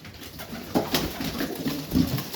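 Pigeons in a loft on a 40-degree day in Melbourne coo repeatedly in soft, throaty pulses, several birds overlapping at close range over a steady background rustle.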